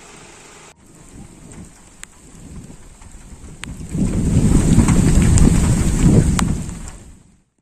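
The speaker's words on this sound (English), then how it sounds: "Uttarakhand's Bageshwar saw a heavy hailstorm" Heavy hailstorm in the mountains of Bageshwar, Uttarakhand, a dense roar of falling ice and rain that swells midway and stays loud, with sharp isolated impacts and wind buffeting the microphone, no voices.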